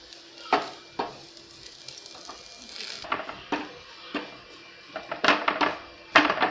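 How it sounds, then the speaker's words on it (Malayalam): Curry leaves and spices frying in a pan, a soft sizzle broken by sharp spoon-on-pan scrapes and clinks from stirring, close and intermittent. "ഒന്ന് വറുത്തെടുക്കാം."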